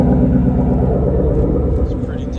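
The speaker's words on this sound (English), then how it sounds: "this is the car at idle." Deep, loud rumbling idle of a straight-piped Ford Mustang engine, close and steady with a heavy low throb and no talking.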